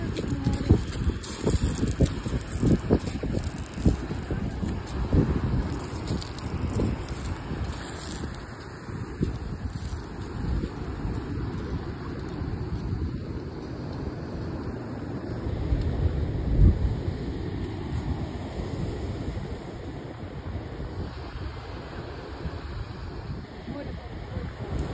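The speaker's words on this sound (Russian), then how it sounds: "посмотрите, какое тут море" Sea waves wash against the shore while wind buffets the microphone at the seaside, a continuous rough roar that surges now and then. A voice is heard at times over the surf.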